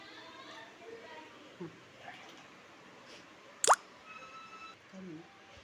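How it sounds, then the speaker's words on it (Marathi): Rice-flour dumplings dropped one by one into simmering broth, mostly quiet with a few soft splashes and one sharp, distinct plop midway, and faint voices in the background. "हे टाकताना असं पाण्यात बुडवायचं आहे, कारण ते हाताला चिटकत नाही आणि टाकायला सोपं"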